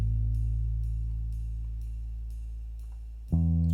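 A Rickenbacker bass guitar sustains a deep, fading low note starting on A, with a faint regular tick pulsing behind it, then a fresh bass note is plucked firmly near the end.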